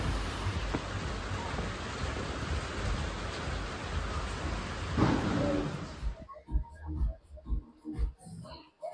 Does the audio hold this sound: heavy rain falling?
yes